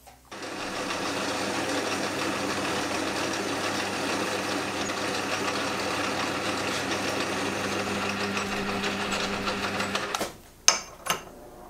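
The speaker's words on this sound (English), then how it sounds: "With the blank now roughed in, I now machine in a gutter for the cutter to start." A lathe cuts a gutter into a roughed-in blank for an ACME tap, a steady close mechanical whirring hum that runs continuously for about ten seconds before stopping, followed by a couple of brief clunks.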